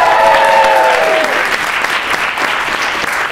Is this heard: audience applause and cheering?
yes